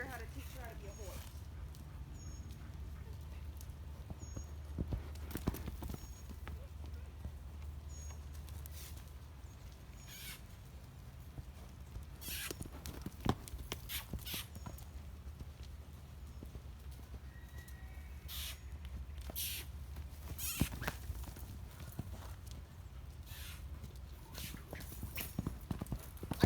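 Horse hooves clip-clopping in a steady, close rhythm during a riding lesson with a horse named Eclipse, with sharp occasional knocks and a person talking over the footfalls.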